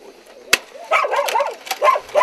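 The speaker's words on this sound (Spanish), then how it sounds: "En medio del ladrar de perros" Dogs bark in a rural area during a police arrest operation, several sharp close barks and yips in quick succession after a single loud snap, fairly loud and clear.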